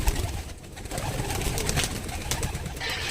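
Pigeons cooing and calling in a loft, a steady layered murmur of several birds close by with no talk over it.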